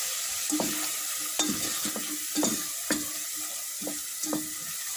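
Red pepper powder sautés in a pan with a soft, steady sizzle, while a spoon stirs it in repeated short scrapes and taps, close and fairly quiet, with no voices.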